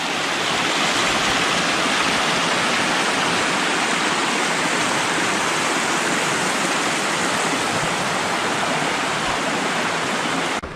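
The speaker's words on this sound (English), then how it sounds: "we're getting a little more lively now with the falls" Dark Hollow Falls in Shenandoah National Park, a waterfall giving a loud, steady, broadband rush of falling water that holds constant and close for the whole stretch, with no voices.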